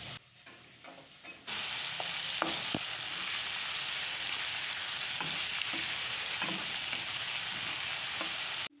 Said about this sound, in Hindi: यहाँ मैं प्याज़ भून रही थी